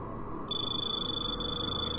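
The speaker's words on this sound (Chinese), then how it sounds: "接电话啊。" A telephone starts ringing halfway through, an electronic high-pitched trill that holds steady and close over a quiet room tone.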